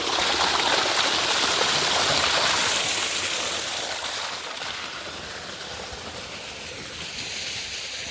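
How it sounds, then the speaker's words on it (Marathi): Irrigation water flows steadily among mango trees, a broad rushing wash that is louder for the first few seconds, then settles into a softer continuous trickle with no voices. "त्याच्यामुळे आता पाणी लावलंय मस्त आंब्यांवर."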